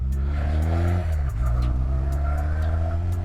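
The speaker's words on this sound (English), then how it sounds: "they're a decent sounding bike as well" Honda Rebel 125 twin-cylinder motorcycle on original exhausts, idling and revving: a steady, loud engine drone whose pitch dips and rises once, close by and with no voices.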